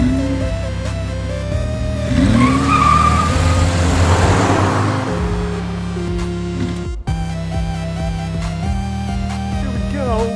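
2016 Mazda CX-3 pulling away hard, the engine revving and climbing through gear changes with a brief tire squeal, loud and close, with a voice heard briefly over the engine.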